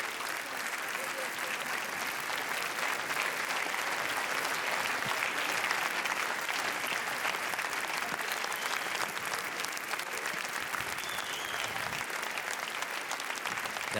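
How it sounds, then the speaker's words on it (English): Sustained audience applause at a Cannes 2018 film screening, a dense steady wash of clapping at moderate distance that holds evenly for the full stretch, with some crowd murmur mixed in. "the audience will welcome David Robert Mitchell with a round of applause"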